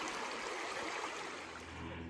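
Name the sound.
river flowing beside a nature trail bench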